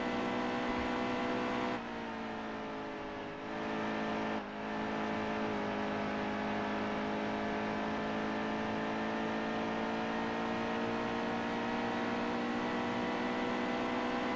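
Race cars circle the track in the PCRL Cup at Charlotte, a sustained, buzzing engine drone holding steady and close with brief dips in pitch as the cars shift or pass.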